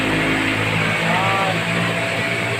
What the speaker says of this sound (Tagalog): Yan ang aming compressor.